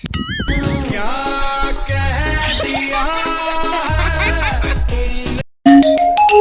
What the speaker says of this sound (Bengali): বারবার কেন ফোন দিচ্ছ?